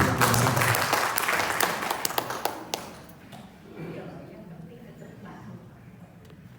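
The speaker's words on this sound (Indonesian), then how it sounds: "Beri tepuk tangan." Audience applause rings out at a Buddhist puja bakti service held in a shopping mall, loud and dense for a few seconds before thinning out into quieter room sound with scattered claps.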